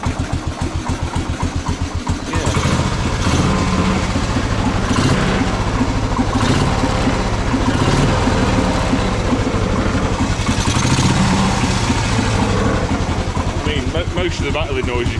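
A Norton Model 50 motorcycle engine fires up and runs steadily close by, a loud continuous thumping idle with a loose fuel tank rattling against the frame, while people talk over it.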